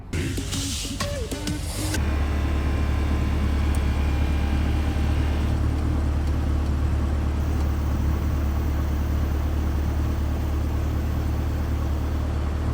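A Corvette E-Ray hybrid idles in ICE engine mode, its gasoline engine giving a steady low rumble that starts abruptly after a brief burst of other noise and then holds constant and close.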